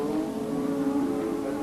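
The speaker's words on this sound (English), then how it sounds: "And there is Rosberg coming into the pits." A 1985 Williams Formula One car comes into the pits at Kyalami, heard as a steady, fairly faint engine drone with a humming, buzzy tone.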